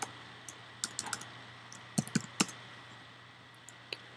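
Keys tapped on a computer keyboard while a file name is entered during basic website setup, giving sparse, irregular clicks in small clusters that are faint and close, with no voices.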